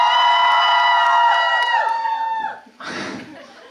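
Fans at a Monsta X cinema stage greeting for Connect X, with a loud sustained high-pitched scream and cheer from a packed crowd that cuts off abruptly and gives way to a lower, fainter murmur of voices.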